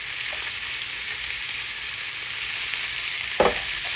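Potatoes and onions fry in a pan with a steady, close hiss of sizzling oil, broken once by a brief stir or scrape near the end.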